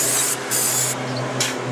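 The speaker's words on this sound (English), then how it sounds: "So I'm going to grab this carb throttle body cleaner. Just go in there and just spray it." Carb and throttle body cleaner sprays from an aerosol can into a 2010 Nissan Sentra engine in two close hissing bursts, the first longer and the second brief.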